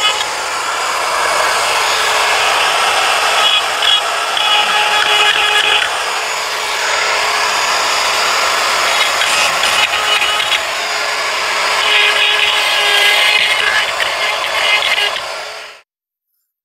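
A DongCheng cordless brushless die grinder grinds edges on a workpiece, a steady high-pitched whine with a gritty grinding texture that wavers in intensity, close and loud, running alone before stopping abruptly.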